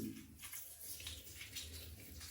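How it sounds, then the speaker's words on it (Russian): A water jet rinses out a snake's mouth, a soft, steady splashing hiss with a brief louder burst at the start, faint and close. "и напором воды выбиваем"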